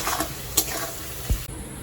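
Capsicum fries in a pan for pulao, a steady soft sizzle with a few brief spatula scrapes and clinks against the pan, close by and with no talk.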